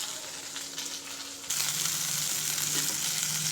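Masala frying in a pan for upma, a steady close sizzle that grows louder and brighter partway through as more spice hits the hot oil, with faint stirring.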